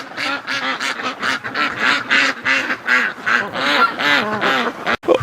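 Ducks quack in a busy, continuous chorus close by, with overlapping nasal calls tumbling over one another from a whole flock being let out to join the others.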